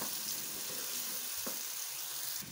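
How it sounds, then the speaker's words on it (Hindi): Onions, tomatoes, green chillies and garlic frying in masala give a steady, close sizzle, with a few brief stirring scrapes and no voices. "इनकी भुनाई कर रही हूँ अच्छे से"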